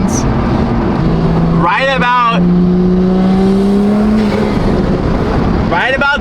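Toyota Supra engine drones loudly, its pitch climbing steadily as the revs build, with short bursts of someone talking over it.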